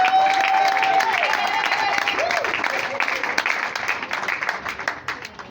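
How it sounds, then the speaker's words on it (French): Guests at a civil wedding applaud the couple, a crowd's dense clapping that starts strong and gradually thins and fades, with voices and a brief tone audible early on. "On applaudit les couples."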